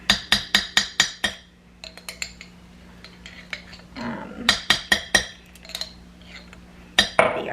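Pesto scraped from a glass jar into a pot, heard as a run of sharp, close metallic clinks and knocks in quick bursts with short pauses between them.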